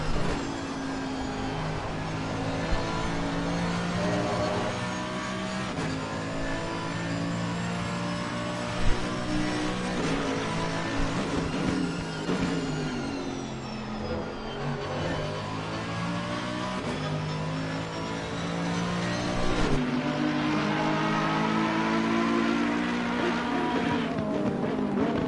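Race cars, a Mercedes and a Ferrari among them, accelerating through corners at the Zolder circuit, engines wailing and revving up and down through gear changes, loud and continuous with several cars overlapping and passing.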